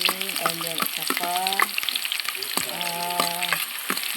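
Chopped onion, garlic and fresh ginger stirred and fried together in a pan, with a steady sizzle under repeated scraping strokes that carry squeaky, tonal rasps in uneven bursts.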